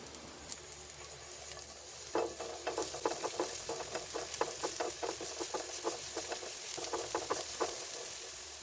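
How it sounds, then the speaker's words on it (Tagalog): Ginger, onion and garlic sautéing in a pan as the base for sardines in coconut cream with pechay, a soft sizzle joined by a quick, regular run of stirring strokes and scrapes close by. "gisahin na natin ang ating aromatics tulad ng luya, sibuyas, at bawang"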